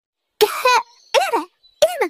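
A short series of three harsh, close coughs from a cartoon character with a sore throat, with brief pauses between them, raspy and throaty, with no other sound around them.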